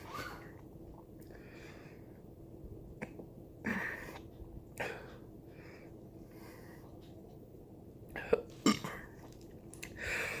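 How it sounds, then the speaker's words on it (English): Hiccups from someone who has just swallowed the world's hottest chocolate: a few sharp, isolated hiccups spaced several seconds apart, close and fairly quiet against a hushed room. "Hiccups."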